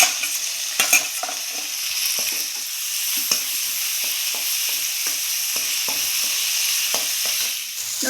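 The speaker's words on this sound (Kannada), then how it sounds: "ನೋಡಿ ಟೊಮೊಟೊನು ಫ್ರೈ ಆಗಿದೆ." Chopped tomatoes fry for a soya bean curry, a constant close sizzle broken by repeated spatula stirs and scrapes against the pan, with a few sharper knocks early on and no voices.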